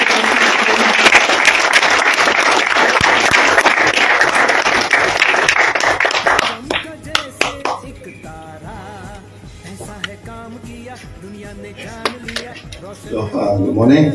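Audience applause welcomes the DXN founder at a university event in Malaysia, a loud dense clatter of clapping for about six seconds that thins into scattered claps, then speech follows, with a brief burst of clapping near the end.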